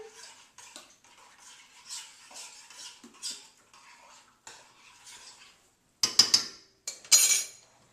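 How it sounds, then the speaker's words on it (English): A spoon stirs sour cream and Dijon into beef stroganoff sauce in a pan, making soft, wet scraping swirls. Louder metal clinks and scrapes against the pan come near the end, and no one speaks. "Stir that in."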